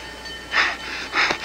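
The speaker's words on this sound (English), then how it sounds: "It's a train." A train passes, heard as two swelling rushes of rumble and hiss about half a second apart over a quiet background, with no talking.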